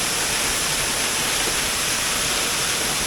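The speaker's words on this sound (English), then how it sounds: "probably about a 50 or 60 foot waterfall, and it is in full flow" Suter Falls, a 50 to 60 foot waterfall in full winter flow and ringed by ice, roars as a loud, constant broadband wash with no break.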